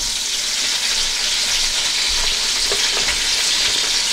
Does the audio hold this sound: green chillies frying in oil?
yes